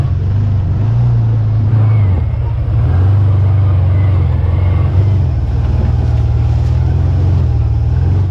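An ATV engine drones loud and steady as it climbs a rough trail toward the top of the Gaff in Newfoundland, the low motor note holding constant with slight rises in throttle throughout.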